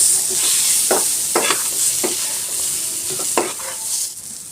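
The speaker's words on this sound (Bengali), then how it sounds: "ভাজতে ভাজতে দেখেন এই পর্যায়ে আমি হলুদটা দিয়ে দিলাম" Pointed gourd fries in a pan with turmeric added, making a steady close sizzle punctuated by several brisk spatula strokes scraping and stirring through the pieces, with no one talking.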